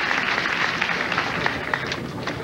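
Crowd cheering and steady applause at a 2001 PBA bowling match, a dense even wash of clapping close by with a father cheering his son among the spectators.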